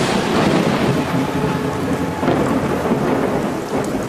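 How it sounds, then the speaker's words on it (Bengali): Thunder in a Bengali horror cartoon: a loud, continuous rumble from a lightning strike rolls on with heavy rain pattering throughout. No voices are heard. "আচমকা চারিদিক আলোকিত হয়ে বিকট শব্দ করে মোড়লের উপর বাজ পড়ে।"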